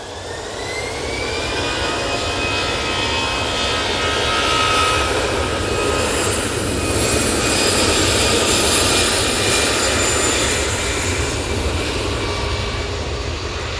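An Aer Lingus jet on the runway at Manchester Airport, its engines producing a loud, sustained roar that swells to a peak midway and stays strong, heard at a distance with a faint whine on top.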